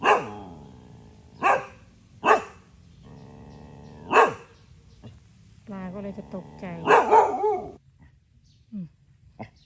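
A dog barks several times in sharp, separate bursts at a flooded farm pond with dry bamboo sheaths drifting on the water, moderately close, with someone speaking between and over the barks.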